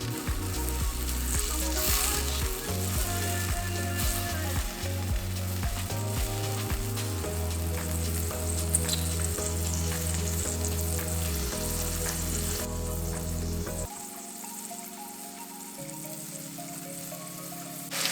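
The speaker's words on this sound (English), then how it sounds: "We're letting the braising liquid render close to half of its quantity to concentrate the flavor" Pork belly braising liquid bubbles and sizzles as it reduces in a pot, giving a steady close hiss and crackle with light stirring. Near the end the sound softens and the hiss thins.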